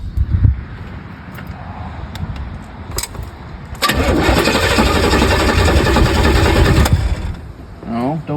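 An old car's engine is cold started: the starter cranks for about three seconds, loud and steady, and then stops, followed by a brief voice.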